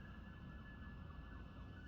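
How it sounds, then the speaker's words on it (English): Sirens wail outside a building in a faint, steady, distant tone, muffled through walls and partly buried in low room rumble, with no talk over them. "there's sirens outside."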